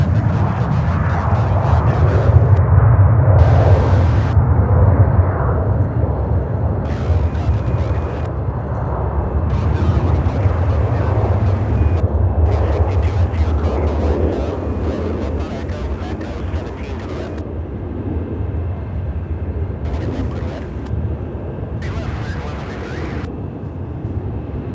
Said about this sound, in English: this A321 heading to Dallas Fort Worth